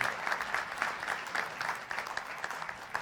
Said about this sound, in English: Let's give our panel a great round of applause if we could